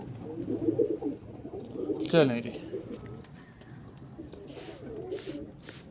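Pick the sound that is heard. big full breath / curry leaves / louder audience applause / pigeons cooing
pigeons cooing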